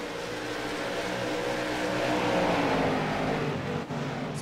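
Late model race cars roar side by side around an oval track, a dense, steady engine drone at a moderate distance with no pause.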